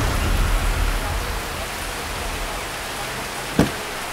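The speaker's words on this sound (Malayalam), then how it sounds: "മഴ മാറുന്നില്ലല്ലോ" Steady heavy rain pours down during the Kerala floods, a dense continuous hiss with one sharp knock or splash near the end.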